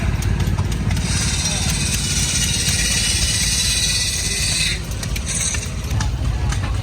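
A 1949 Ford truck engine runs at a heritage and harvest days show, a steady, dense low rumble that holds on throughout with a faint high whine over it.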